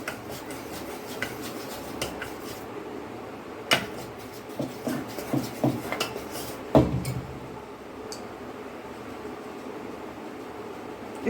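Khaman batter with baking soda beaten in a bowl to work air in, a steady scraping rub with sharp clinks of whisk or spoon on the bowl around the middle of the clip, close and moderately loud, with no talk.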